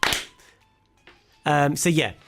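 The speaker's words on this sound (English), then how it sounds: "I think he just deserves the one clap, actually." A single sharp clap from a comedy talk show studio audience opens the moment, loud and brief, followed by a quiet gap and then a voice speaking.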